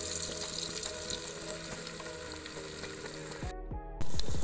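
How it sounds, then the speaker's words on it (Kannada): Ground masala frying in a pan with onion and tomato, a steady close sizzle with faint scraping, then a sudden louder hiss as the end approaches. "ಈರುಳ್ಳಿ ಫ್ರೈ ಆಗ್ತಾ ಬರುವಾಗ 1 ಟೊಮೆಟೊವನ್ನು ಕೂಡ ಹಾಕಿ ಚೆನ್ನಾಗಿ ಫ್ರೈ ಮಾಡುವ."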